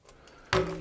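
Kerosene squirted into a tin can waste oil burner, a quiet lead-in followed by a sudden loud hissing spray that carries on steadily to the end.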